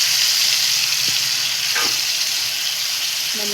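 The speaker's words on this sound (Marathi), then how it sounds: "मंद आचेवर छान त्याला परतून घेऊया" Jackfruit biryani ingredients with yogurt sautéing in oil over a low flame, a steady soft sizzle and hiss that holds level throughout with no voices, close and continuous.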